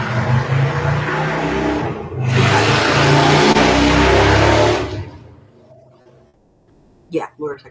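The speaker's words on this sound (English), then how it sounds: "Yeah, motorcycles." Motorcycles roar past outside in two loud, sustained engine surges, one fading before another builds and dies away, leaving a quiet room where a voice briefly speaks.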